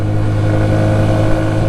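A CF Moto Papio 125 mini motorcycle engine holds a steady high rev of about 6,500 RPM while cruising at 50 mph, loud and close, a continuous buzzing drone without letup.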